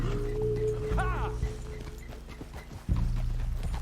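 Horse hooves clip-clop steadily in Red Dead Redemption 2, a soft rhythmic gait running under game music and a brief whinny-like tone, with the beat sharpening near the end.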